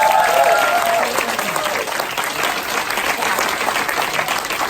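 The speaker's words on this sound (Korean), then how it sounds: "오늘 여러분들을 위해서 힘찬 박수를 한번 치고 한번 시작해" Loud, vigorous applause from a room of people at a company group meeting, many hands clapping in a dense continuous roar that holds steady for nearly five seconds.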